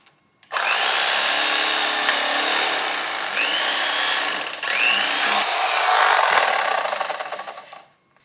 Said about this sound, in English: I'm going to cut out those pin bones, just like that.